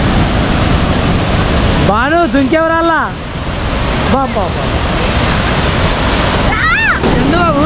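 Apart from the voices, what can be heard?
large waterfall in Kerala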